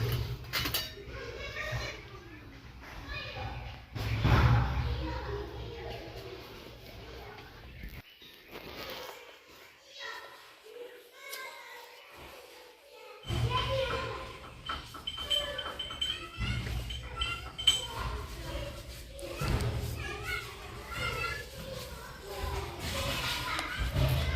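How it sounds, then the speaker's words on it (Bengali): Wheat flour being mixed little by little into an egg and sugar batter in a bowl: irregular clinks and scrapes of a utensil against the bowl, close and fairly quiet, with one brief near-silent pause partway through. "এবার আমি অল্প অল্প করে আটাগুলো মিশিয়ে দেব"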